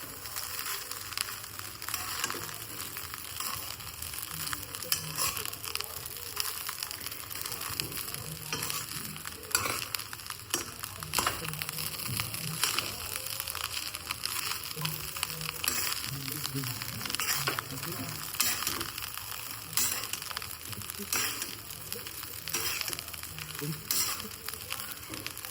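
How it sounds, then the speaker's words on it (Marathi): Pulao sautés in a pan with a continuous soft sizzle and occasional stirring scrapes, fairly quiet and steady throughout. "जरा परतून घे व्यवस्थित"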